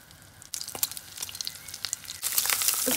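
A thin slice of fatty meat in a pan with no added oil or butter gives a soft, crackling sizzle that swells louder toward the end, close and alone with no talk.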